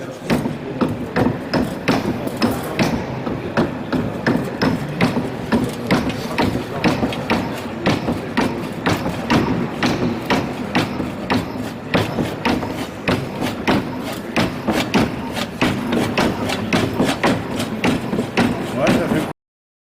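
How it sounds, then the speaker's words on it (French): A cabinetmaker's homemade mechanical saw assembled from many small parts runs with a steady, rapid series of repeated knocking thumps, loud and mechanical, continuing evenly throughout. "je vous présente ma scie, une multitude de petites choses mises bout à bout qui finalement fonctionnent"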